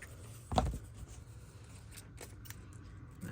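Large scissors cutting paper near a journal page, one clear snip followed by faint, soft trimming sounds in a quiet room.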